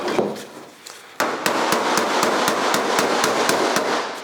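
A hammer strikes the edge of a 1956 Chrysler 300 trunk lid's sheet metal in quick, regular taps, a steady run of sharp bright clinks close up after a brief quieter start.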